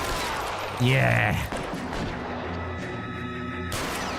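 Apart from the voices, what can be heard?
gunfire in LA Noire video game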